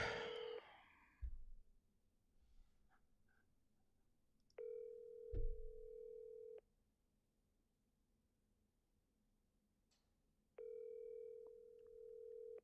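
An unanswered phone call rings back in two long, steady electronic tones separated by a long quiet gap, with a brief bump and faint breathing noise near the start.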